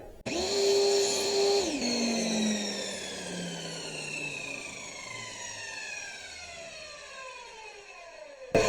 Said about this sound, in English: We're going to see if we can miter this with the table saw.